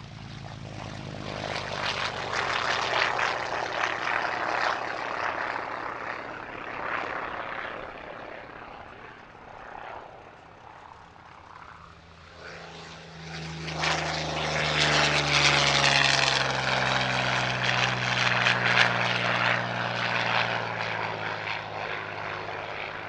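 A Yak-3 and a Yak-11 propeller fighter pair flying a display at the Paris-Villaroche airshow: sustained loud engine drone that dips briefly, then swells again as the aircraft pass closer, with shifting pitch.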